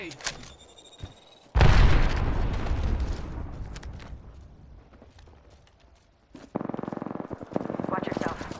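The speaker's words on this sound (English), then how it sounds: "Look out, grenade!" Grenade explosion in a combat video game, a sudden loud boom that decays over several seconds, followed by a burst of rapid gunfire, with radio-style voices heard in the game.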